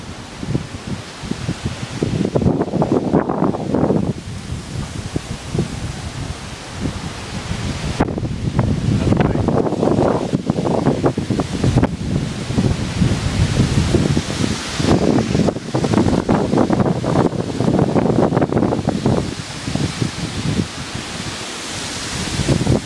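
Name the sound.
strong wind storm blowing through trees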